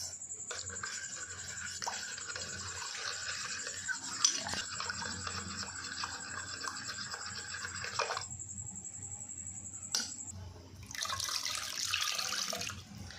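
Roasted mango drink being strained: liquid trickles and splashes steadily through a strainer, faint and close, with a few light clinks and a brief pause before the flow resumes.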